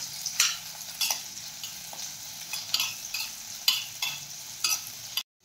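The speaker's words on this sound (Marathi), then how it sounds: "कांदा हलकासा सोनेरी रंग येईपर्यंत परतून घ्यायचा आहे" Onion sautéing in hot oil in a kadhai for paneer masala, a steady close sizzle broken by repeated sharp scrapes of a spoon stirring, ending abruptly.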